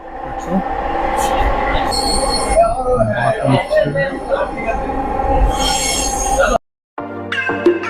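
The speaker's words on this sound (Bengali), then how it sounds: "এইমাত্র একটি চলে গেল মেট্রো ট্রেন, উত্তরা যাচ্ছে।" A Dhaka Metro Rail MRT Line-6 train bound for Uttara roars past nearby with screeching wheels and rumbling, then a short cut to a different tonal hum and chime.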